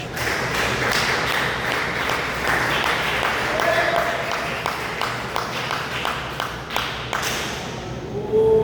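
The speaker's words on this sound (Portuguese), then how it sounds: "Desocupai as vossas mãos e dê uma salva de palmas para Jesus." A church congregation clapping in praise at a worship service, a steady wash of many hands with distinct sharp claps standing out, fairly loud throughout.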